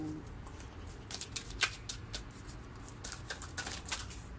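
Tarot cards shuffled and drawn by hand, a quiet close patter of soft riffles and light card flicks in uneven bursts, with no talking.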